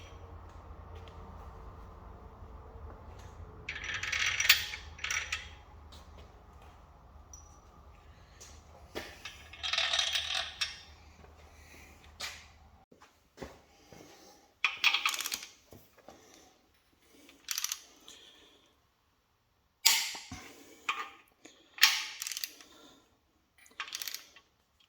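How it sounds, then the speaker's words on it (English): Torque wrench tightening bolts on a Mopar 361B engine, a series of sharp ratcheting clicks in short separated bursts, close and fairly quiet against a faint low hum that drops away midway. "I torque these down to 85 foot-pounds"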